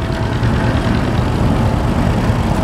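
A Waterloo steam traction engine runs at the Milton Steam Era show, giving a loud, close, continuous rumbling chug with dense low churning and no voices.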